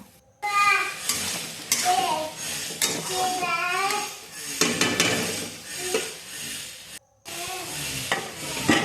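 Long bean vegetable curry stirred and fried in a pan: a spoon scrapes and clatters against the metal in a steady rhythm over a soft sizzle, close up, with faint voices in the background.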